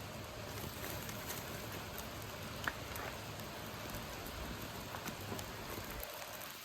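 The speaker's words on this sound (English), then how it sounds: "Yeah, it's raining." Steady rain falls on a hiking trail with an even hiss and patter, continuous and fairly quiet, with no talking.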